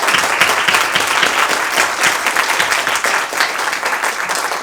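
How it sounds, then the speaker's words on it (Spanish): After a conference lecture by Dr. Renato Huarte, the audience breaks into lively, close applause, with dense overlapping clapping that stays strong throughout. "un súper aplauso por su conferencia"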